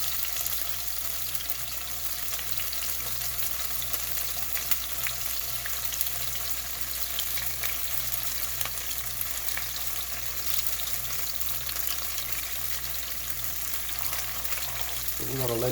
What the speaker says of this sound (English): But it's the water content that has it sizzling.